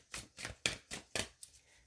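Thick tarot cards being shuffled by hand in a quiet room: five crisp, evenly spaced riffling bursts with a faint trailing flick, close and alone with no voices.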